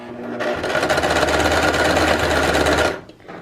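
A sewing machine stitches back and forth across a fabric face mask, a close, loud, rapid mechanical whir running steadily for about two and a half seconds before stopping.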